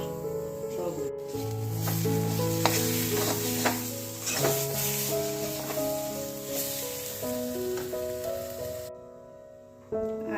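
Shrimp frying in a pan, a soft continuous sizzle running under louder background music for about ten seconds.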